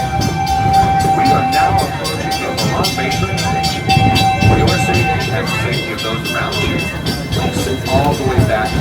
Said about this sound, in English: Remain seated until the train comes to a complete stop